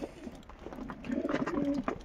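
Racing pigeons cooing at close range while bathing, soft repeated coos with some splashing and rustling in the background.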